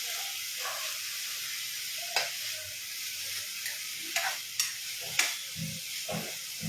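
Grated carrot sautéing in a pan sizzles and hisses steadily, with occasional stirring scrapes and clicks near and clear, no talk.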